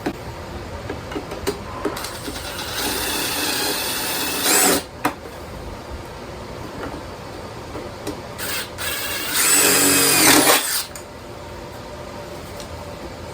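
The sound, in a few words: power drill drilling steel cart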